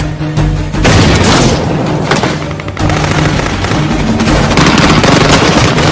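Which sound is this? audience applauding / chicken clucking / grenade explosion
grenade explosion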